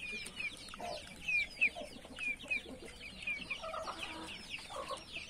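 A very small white-legged rooster, no bigger than a chick, gives soft, quick clucks and chirpy calls in short bursts, quiet and close.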